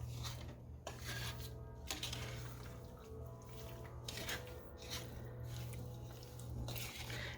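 A spoon stirs cherry pie filling in a pot on a stove, making a steady, soft wet scraping and squishing with rhythmic strokes over a low, constant background hum.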